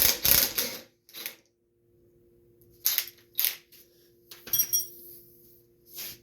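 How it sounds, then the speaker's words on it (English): A 1/2 inch wrench loosening and removing a nut from a steering rod on a Craftsman YT 3000 riding lawn mower, heard as a few sharp metallic clinks and taps in separate bursts with quiet gaps between. "Same thing, 1/2 inch wrench. Hold that nut in place, or the bolt in place. Take that nut off."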